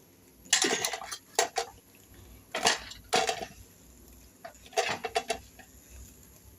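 Jackfruit seeds are worked on a stone grinding slab, with sharp irregular clacks and scrapes of stone on hard seeds coming in short clustered bursts separated by near silence, close and moderately loud.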